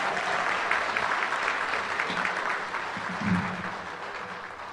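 Applause from the audience at a football press luncheon, a continuous, moderately loud patter of many hands clapping that fills the room for a few seconds as people take their seats, with faint voices beneath.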